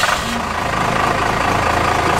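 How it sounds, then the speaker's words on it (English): A step van engine runs at a steady, rough idle, a loud close mechanical drone with a faint knocking pulse throughout. "Starting the engine"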